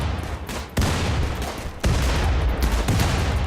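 Video-game gunfire from a firefight in RimWorld crackles in dense, overlapping bursts, with sharper volleys breaking in every second or so over a continuous rattle of shots.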